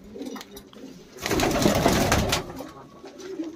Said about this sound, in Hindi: ये देखो जी कबूतर, एक से एक अच्छी क्वालिटी के कबूतर हैं